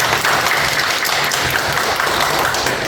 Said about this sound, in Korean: 이분에게 박수